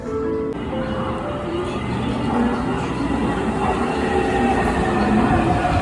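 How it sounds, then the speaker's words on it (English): Taipei metro trains rumble and clatter into a station, wheels rolling steadily and loud, with faint platform chime tones carrying over the continuous rail noise. "all the trains have their own soundtracks that you can hear in the background"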